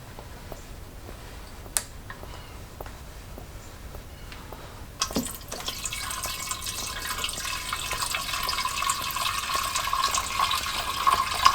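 Milky fluid drains from an old Honda T50 motorcycle laid up for ten years, a few faint ticks first, then a steady splashing pour that grows gradually louder and runs continuously to the end.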